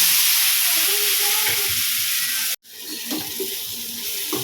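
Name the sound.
cauliflower frying and being stirred in a pan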